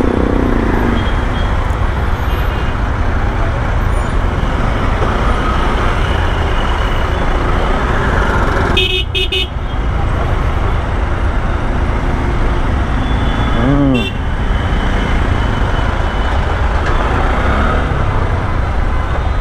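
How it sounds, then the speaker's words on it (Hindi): Dense, steady roadway roar of a heavy evening traffic jam heard from a ride, with engines idling and rumbling close by and a brief air-brake hiss partway through. "कैसा ट्रैफिक है यार ये, अचानक इतना ज़्यादा जाम कैसे लग गया।"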